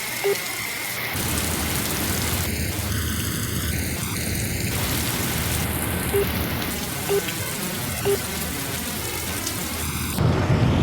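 Steady rain pours down in a constant hiss, with low rumbles of thunder underneath and a few faint tones.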